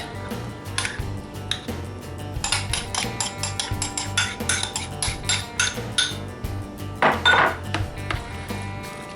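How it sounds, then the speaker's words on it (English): Spoon scraping and clinking against a pan while crumbled cooked sausage and cream cheese are stirred together, a steady run of close metallic taps and scrapes with no talking. "Stir that all around, get it all mixed in"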